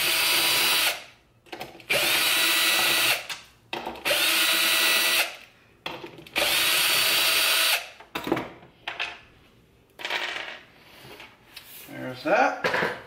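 Power driver spinning Torx screws out of the center console trim of a C8 Corvette, several loud whirring bursts of about a second each with pauses and some rattling handling noise between them.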